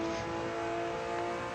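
A Ruf RT12R accelerates hard around the Salzburgring, heard from onboard as a loud, continuous, high-revving engine note that stays close and steady, with no talk over it.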